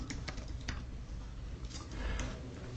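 Rapid clicks of a computer keyboard come as a file name is typed, close and fairly quiet, in a short irregular burst of keystrokes with no talking.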